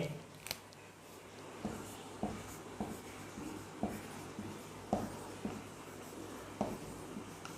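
A teacher writes on a board during a physics lesson: faint, quiet scratchy strokes repeat at a fairly even pace in a calm room, with no talking.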